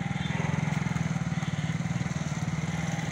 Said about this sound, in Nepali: हाम्रो यहाँ सजन भाइले बाइकको ट्रायल कसरी दिने देखाउँदै हुनुहुन्छ सबैजनालाई